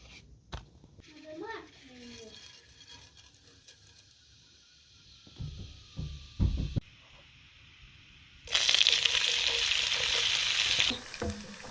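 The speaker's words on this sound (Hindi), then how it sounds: "अभी तड़का लगाने लगी हूँ।" A tadka of spices for lentils and beef cooked in a pressure cooker hits hot oil with a sudden loud sizzle that holds steady for a few seconds, after earlier clatter and faint background voices.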